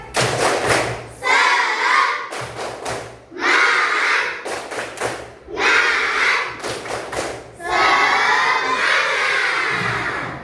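A class of children performs a rhythmic spirit clap, bursts of patterned claps alternating with loud group shouts and cheering, repeated in several rounds across the room.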